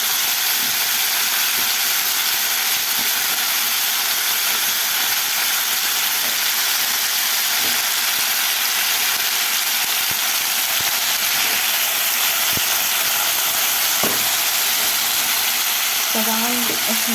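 Garlic and potatoes fry in a pan with a loud, steady hiss and sizzle that fills the whole stretch, broken by occasional faint clicks.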